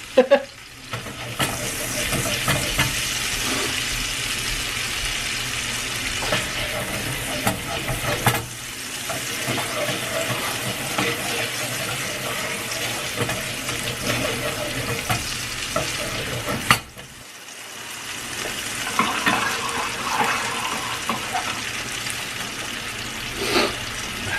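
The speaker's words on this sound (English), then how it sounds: "you keep them in a pan a minute each side with butter, salt, and pepper, just to get it a little dark" Filet mignon sears in a pan with butter, salt and pepper, giving a steady, close sizzle with stirring and clattering that runs almost continuously, dropping out briefly twice before resuming.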